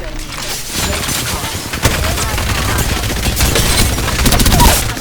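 Rapid gunfire in Apex Legends, bursts of automatic shots and sharp single cracks over a constant rumble of battle, loud and close, with people talking excitedly under the shooting.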